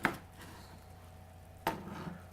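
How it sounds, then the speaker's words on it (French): A knife slices cooked duck breast in half on a board, giving two crisp, quiet cuts about a second and a half apart, with no talk. "On va juste le couper en deux."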